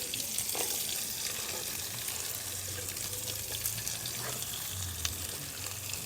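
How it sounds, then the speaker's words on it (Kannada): Onions and curry leaves fry in a pan over a wood fire, giving a soft continuous sizzle with faint crackles and clinks, fairly quiet and without talk. "ಈರುಳ್ಳಿನ ಹಾಕ್ತಾಯಿದ್ದೀನಿ ಇವಾಗ"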